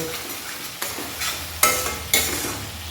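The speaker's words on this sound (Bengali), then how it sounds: "আর দিয়ে দেব পরিমাণ মতো একটু চিনি দিয়ে আবার ভালো করে নাড়িয়ে চাড়িয়ে কষিয়ে নেব" Banana flower and prawn curry with sugar added is stirred and sautéed in a pan: a constant sizzle punctuated by four distinct spatula scrapes, the last two loudest, with no voices.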